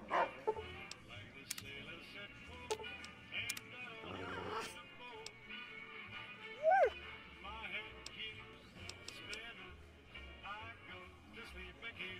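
In Fallout: New Vegas, Rex the dog barks and yips repeatedly in short bursts, mid-distance, over a low rumbling game ambience, with a person speaking intermittently.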